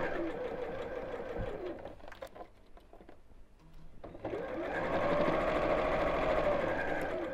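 A domestic sewing machine stitching fabric for a small pinwheel pin cushion, whirring steadily in two close bursts separated by a short pause in the corner.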